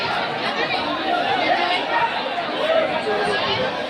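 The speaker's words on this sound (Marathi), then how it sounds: "हे बघा एवढी गर्दी आहे ना इथे" Dense, steady crowd chatter fills a busy CST fish market in Mumbai during the monsoon, an unbroken babble of many overlapping voices at close range.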